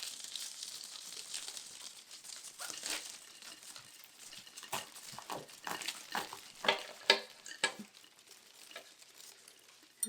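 Rustling and crinkling of a houseplant root ball being cut apart during division, with soft scraping and snipping sounds and a few sharper clicks toward the end, close and fairly quiet with no talking.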